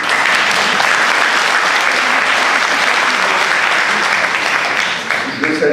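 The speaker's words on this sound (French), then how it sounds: "Vous pouvez l'applaudir." A room full of people applauds a deputy, Bernard Desterlin, at a public gathering, loud sustained clapping that holds steady throughout before tapering slightly at the very end.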